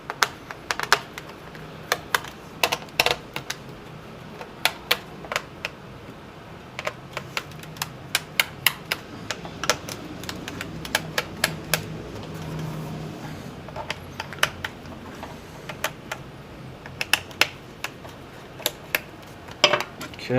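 Small plastic clicks and taps ring out in quick, irregular bursts as the cover comes off a Dell Inspiron 1525 laptop, faint and close over a quiet background.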